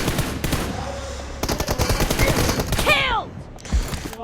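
Rapid bursts of video game gunfire crackle close and loud in uneven volleys, with a brief sweeping whine near the end.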